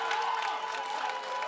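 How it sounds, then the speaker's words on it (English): Booing from spectators at the European Pickleball Championships, a sustained mid-pitched crowd drone at moderate volume with no break over a short stretch. "listen to the boos once more"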